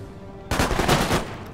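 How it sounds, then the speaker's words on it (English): Fusileros fire a musket volley in Empire Total War: after a brief quiet moment, a dense burst of overlapping shots crackles loudly for about a second, then trails off. "My Fusileros are going to open fire."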